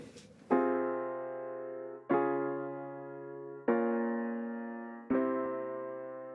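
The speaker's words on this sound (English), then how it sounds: "Now going into the pre-chorus, the first thing I added were these piano chords" Four sustained piano chords in a dance pop pre-chorus, each struck cleanly and left to ring and decay before the next, evenly spaced and alone without other instruments.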